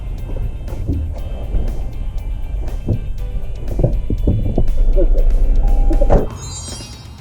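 Inside a moving kei car, a steady low road and engine rumble fills the cabin, with occasional knocks and rattles and a louder stretch before it quiets near the end.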